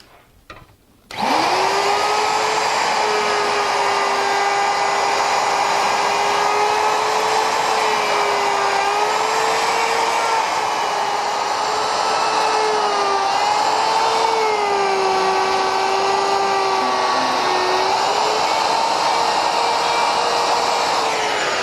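A router with a flush trim bit starts up and runs with a steady high-pitched whine, loud and close, its pitch dipping slightly as it takes a light pattern cut in wood.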